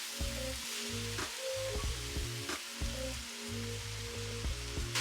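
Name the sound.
vegetables sizzling in olive oil in a pan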